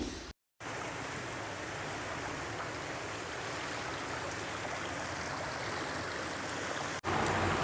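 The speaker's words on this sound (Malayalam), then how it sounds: "ഈ വെള്ളം ഒഴുകണ കണ്ടു കഴിഞ്ഞാൽ നിങ്ങൾ വിചാരിക്കും ഇത് തോടാണെന്ന് ഇത് തോടല്ല ഇത് വഴിയാണിത്" Floodwater runs along a road in a coastal area like a stream, making a continuous broadband rush at moderate level. A brief dropout comes near the start and a small click near the end, with no voices.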